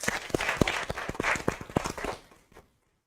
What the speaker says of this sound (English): A round of applause for Bert Jan.